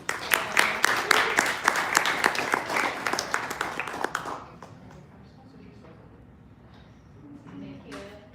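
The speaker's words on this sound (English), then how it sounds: "give her a round of applause, please" An audience claps loudly for about four seconds, a dense burst of many hands that quickly tapers off and falls to quiet room tone with faint scattered sounds.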